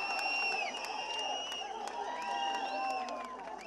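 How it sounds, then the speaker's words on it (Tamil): Audience at a Tamil film event applauding and cheering, crowd noise with whoops and high shouts over scattered clapping, fairly loud and sustained. "நல்ல ஒரு தூரம் கைத்தட்டல் கொடுக்கலாம்"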